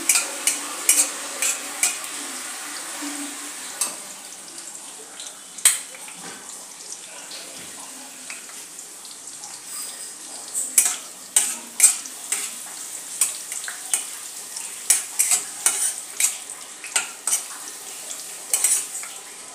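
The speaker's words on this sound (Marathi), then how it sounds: "काजू चांगले आपण रोस्ट करून घेऊया।" Cashews being roasted in a pan for Maharashtrian gajar halwa, a spoon stirring and scraping with repeated clinks and soft scuffs against the metal over a faint sizzle, close and steady.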